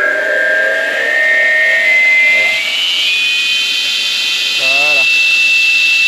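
A log saw's motor starts up and climbs in pitch as it gathers speed, a loud, rising whine with steady hiss throughout, while someone speaks briefly near the end.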